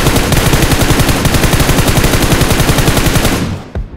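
Rapid automatic gunfire from an M416 rifle in PUBG Mobile rattles in a loud, steady burst of evenly spaced shots lasting several seconds, then cuts off abruptly.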